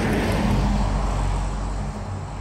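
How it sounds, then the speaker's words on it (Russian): A car drives past on a road near a riverside village, a steady broadband rumble of tyres and engine that holds loud throughout and eases slightly toward the end. "Машина едет."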